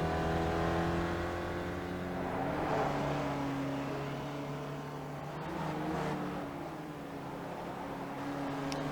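Race cars circle the Nürburgring Nordschleife in a racing game, a continuous droning engine note that rises and falls as the cars accelerate and pass, moderately loud and unbroken, with nobody talking.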